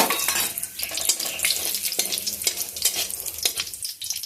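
Black cumin, bay leaf and dry red chilli crackle and sizzle loudly in hot oil, a dense, close hiss with rapid popping and a few stirring scrapes throughout. No speech.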